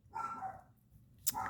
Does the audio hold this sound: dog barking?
yes